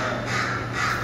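A crow at a natural history and science museum gives a single drawn-out, harsh caw close by, loud and alone.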